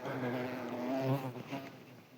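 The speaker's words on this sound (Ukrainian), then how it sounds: "оси прийшли подивитися" Wasps buzz steadily and close beside a Korean-style herabuna float fishing rig, a continuous droning hum with shifting pitch that lasts throughout and is heard alone.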